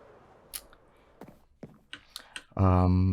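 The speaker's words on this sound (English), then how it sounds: "by right-clicking on them, and now they are inverted daylight sensors" Right-clicking daylight sensors in the Minecraft video game to invert them: a scattering of soft, sharp clicks at irregular intervals, ending in a loud, sustained tonal burst.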